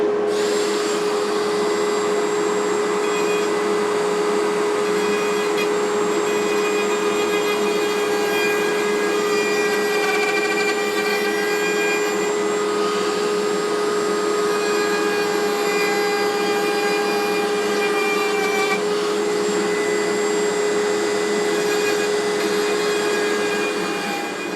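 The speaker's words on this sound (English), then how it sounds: "I've got this little rotary, Black & Decker rotary. I've got this 1-course burr I bought for a class" Small Black & Decker rotary tool fitted with a coarse burr carving a wooden fluted pot, giving a steady high-pitched motor whine with grinding rasp that runs continuously and close for the whole stretch.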